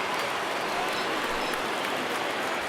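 Rain falling over a baseball stadium at PNC Park before a game, a dense, steady wash of hiss filling the air without a break, fairly loud and even.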